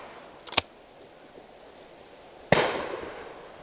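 Two shotgun shots at a game shoot on open ground, each a sharp distant crack about two seconds apart, the second followed by a brief fading echo, faint and heard alone.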